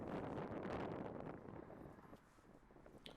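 Gusting wind buffets the microphone on a disc golf course during a tournament round, a loud roaring rush that eases off after the first second and settles into a lighter, ragged blowing.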